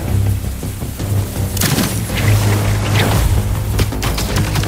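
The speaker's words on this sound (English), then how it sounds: "The fireworks! They're lit!" Fireworks go off over a river in Spider-Man 2, loud rumbling booms and crackling bursts rolling one into another with a low sustained roar beneath. No one speaks.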